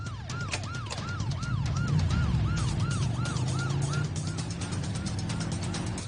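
A traffic police car siren wails in a fast, repeating up-down cycle close by over rumbling traffic noise, then the wailing stops partway while the engine and road rumble carry on.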